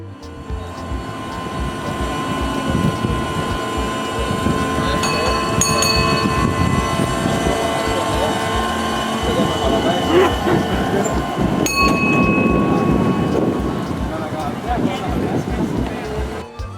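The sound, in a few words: small amusement park train running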